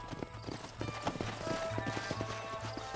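Horses' hooves clop in an irregular, close rhythm as riders pull up and dismount in the Red Dead Redemption video game, with a faint whinny and a low background drone underneath.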